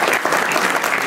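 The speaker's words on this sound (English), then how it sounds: "Big round of applause for Daniel." Audience applause for a panelist at a comic convention panel, a dense, steady wash of many hands clapping throughout, loud and sustained with a faint crowd murmur.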